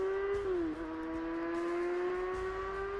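A motorcycle racing at roughly 150 km/h gives a loud, sustained high-pitched engine whine that dips briefly in pitch and then holds steady, with no talking.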